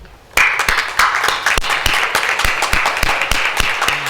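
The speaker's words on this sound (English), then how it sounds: "we should give a standing ovation clap to the meme team" A standing ovation of clapping at a Kargil Vijay Diwas college event, starting suddenly and then running steady, with several sharp, close individual claps standing out above the crowd's applause.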